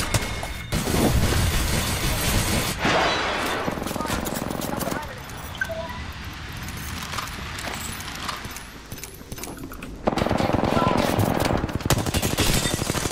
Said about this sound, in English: People are here, they're shooting.